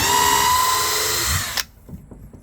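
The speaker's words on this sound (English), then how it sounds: "those DeWalt bits are sharp. They go through this wood like it ain't nothing" A power drill fitted with sharp DeWalt bits bores through wood in a loud, steady whir for about a second and a half, then cuts off abruptly, followed by a few quiet knocks and handling sounds.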